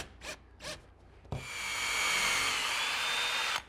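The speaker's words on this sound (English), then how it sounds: "Now I'm attaching the frame to the substrate with some 2-inch screws, which will be just long enough to bite into the melamine but not go through." A power drill drives 2-inch screws through a wooden frame into a melamine substrate, a particle board core laminated on both sides, for a table. Two short taps come first, then one sustained, loud whirring drive of about two seconds with no talk.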